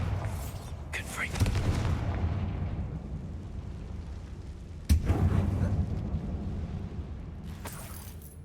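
Bombarda and Confringo spells blasting in Hogwarts Legacy, two sharp booming explosions about four seconds apart, each with a rumbling tail, under quiet game ambience.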